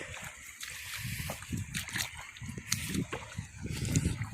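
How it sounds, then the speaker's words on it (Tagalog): Irrigation water flows steadily into a rice field, a continuous low sloshing and trickling with occasional splashes, close by, with faint outdoor background. "Dire-diretso na yung tubig."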